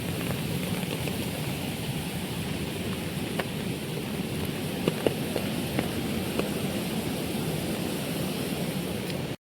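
Heavy monsoon rain pours steadily in the Sahyadri hills at Pendshet, a dense, unbroken hiss with occasional sharper drips and splashes.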